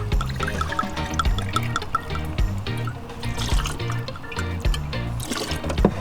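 Vodka is poured for a cocktail at a riverside campsite, a continuous trickling, gurgling pour of liquid into a glass, close by, with outdoor background noise.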